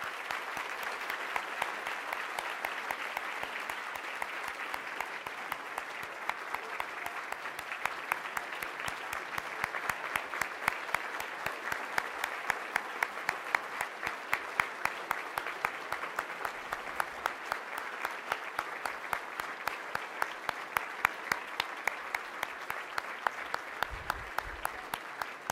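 Sustained audience applause fills a grand hall at a formal medals dinner honoring a Nobel laureate, steady and even throughout with no voices over it.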